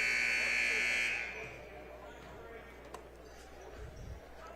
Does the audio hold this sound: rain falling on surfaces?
no